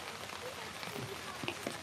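Steady rain falls over a village in rural Bangladesh, a dense, even hiss with scattered drop patter throughout, heard close under a person talking.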